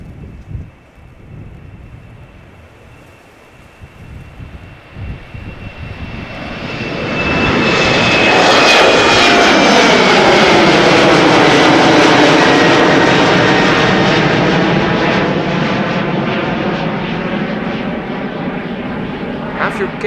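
An airliner takes off from Schiphol's Polderbaan runway, its engine roar swelling from a distant whine into a loud, sustained rumbling blast as it passes close, then slowly fading.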